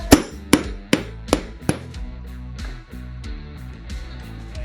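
Five sharp hammer blows strike a Mollar impact screwdriver to tighten a screw, coming in quick succession with ringing metallic overtones, followed by a lingering tonal ring and background hum.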